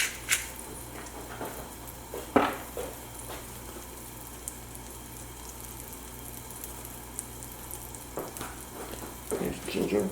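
Salmon fillet seared in a hot pan with salt and pepper, giving a steady broadband sizzle with a few louder bursts as the fish shifts, close up, no talking.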